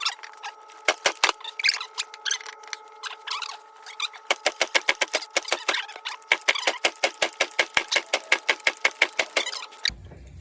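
A Yamaha Banshee ATV engine idles roughly, with a loose, irregular popping putter that settles into a quicker, steadier run of close, sharp pulses before cutting off abruptly.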